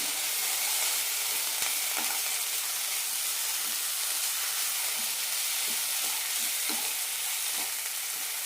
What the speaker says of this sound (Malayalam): കൂടെ തന്നെ കുറച്ച് മല്ലിയിലയും രണ്ട് ടേബിൾ സ്പൂൺ തേങ്ങയും നന്നായി വഴറ്റാം